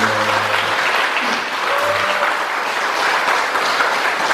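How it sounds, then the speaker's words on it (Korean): An audience at a small evening concert at Hwaeomsa temple on Jirisan claps for a soprano, a bright, even round of applause that holds steady from start to finish, fairly close and full. "박수 한번 보내주세요."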